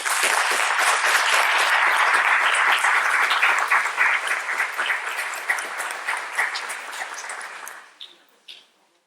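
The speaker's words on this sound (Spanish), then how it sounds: "Un aplauso." Audience applause welcomes a speaker at a school sexual harassment conference, loud dense clapping that gradually thins and fades out, ending in a few scattered final claps.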